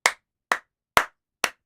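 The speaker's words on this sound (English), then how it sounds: "like if I clap my hands" Four sharp hand claps ring out alone, close and evenly spaced about half a second apart.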